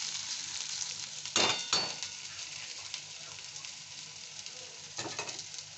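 Food sizzles steadily in a kadai over a constant hiss, with a couple of louder scraping clanks from stirring near the start and again toward the end, close and unaccompanied by talk.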